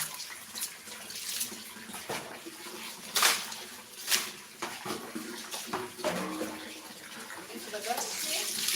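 Tap water runs and splashes as galangal is rinsed clean for cooking rendang and fried chicken, with irregular gushes, brief clatters of kitchenware, and a voice speaking now and then.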